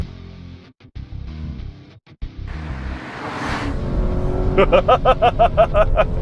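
A Ford Mustang GT muscle car engine revs up from an idle rumble, climbing into a loud, rising roar with rapid pulsing throttle bursts close by, no talking over it.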